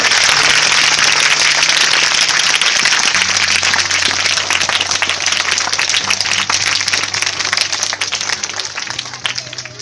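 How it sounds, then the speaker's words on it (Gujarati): An audience at a school event gives loud, dense clapping that sounds close and fills the whole stretch without a break. It eases slightly only near the end. "વધારે તાળીઓ પડવી જોઈએ"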